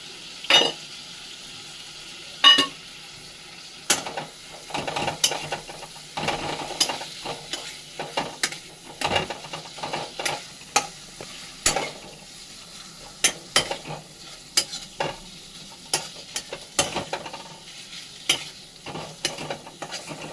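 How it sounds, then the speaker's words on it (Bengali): Prawns frying in oil with spices for a prawn kosha, stirred repeatedly; a low continuous sizzle broken by many sharp, close spatula scrapes and knocks against the pan, irregular but frequent throughout, with no voices. "মোটামুটি তেল ছেড়ে দিয়েছে, এবার আমরা চিংড়ি মাছগুলো ছেড়ে দেবো।"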